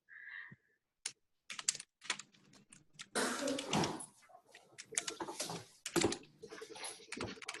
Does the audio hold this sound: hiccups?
no